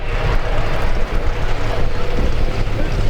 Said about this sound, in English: Let's see if the turbocharged Omni can run Partly down on the big end.